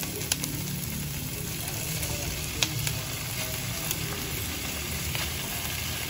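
Chicken breast hitting a hot pot of soup, a dense steady sizzle and frying hiss filling the whole stretch, with occasional small clicks of stirring, close and continuous with no talking.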